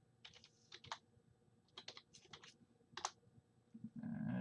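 Computer keyboard keys tapped in quick clustered bursts while a username is entered, close and quiet, ending with a low rumble as the typing stops.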